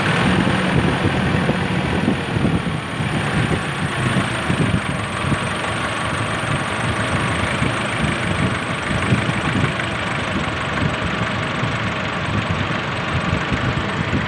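A Nissan Navara diesel engine fitted with a new turbo idles in a steady, dense rumble with an even, slightly knocking texture, loud and close throughout, without any talking.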